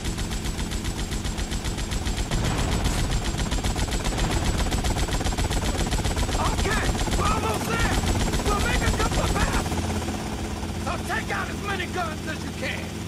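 Sustained helicopter machine-gun fire in GTA Vice City, a dense rapid rattle over a steady rotor and engine drone that runs nearly throughout, thinning near the end.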